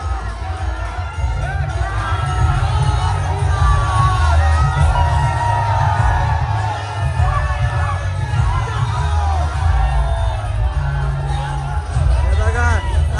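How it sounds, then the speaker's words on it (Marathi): A dense crowd at the Aai Raibadevi village yatra procession cheers and shouts continuously, loud and close, with children's yells and a voice talking over the festive din. "हे बघताय सर्वजण जल्लोष करत निघालेले आहे"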